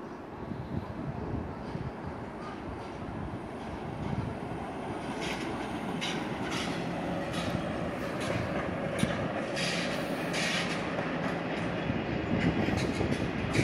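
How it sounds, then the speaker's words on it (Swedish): A northbound local passenger train rumbles past on the rail line, a steady broadband roar with faint rhythmic wheel clatter that stays loud and fairly close throughout, with no talking. "där kommer ett tåg till, lokaltåg, norrut"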